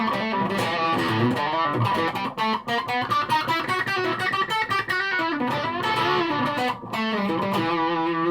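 An electric guitar fitted with a Japanese humbucker-style pickup plays distorted riffs straight into an amp with volumes at full, loud and continuous with rhythmic chord strikes and sustained notes, no talking.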